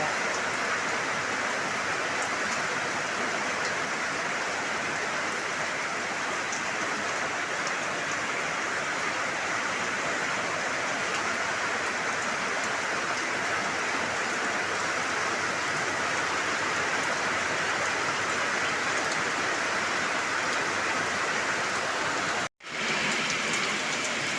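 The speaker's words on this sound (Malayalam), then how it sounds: "ഇടിയോട് കൂടിയ മഴ" Heavy rain pours down in a steady, dense hiss that stays unbroken for the whole stretch, with one brief cut near the end and no distinct thunderclap standing out.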